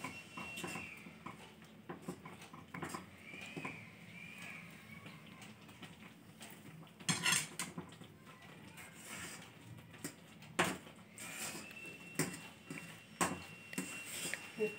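Rice flour is stirred into boiling water in a pot over a low flame, making quiet scraping and knocking sounds with a few sharper clacks of spoon against metal and faint shuffling in the background.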